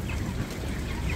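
Dense flock of broiler chickens on a poultry farm clucking continuously, close and fairly loud, a steady crowded murmur of many birds with no break.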